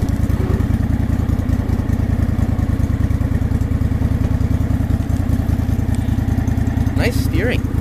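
An old Craftsman lawn tractor engine runs at a steady, rough idle, close and loud, with a brief high sound near the end.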